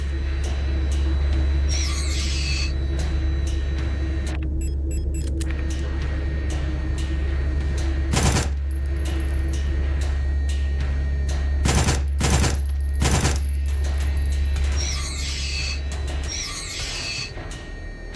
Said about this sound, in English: Just have to go guns a-blazing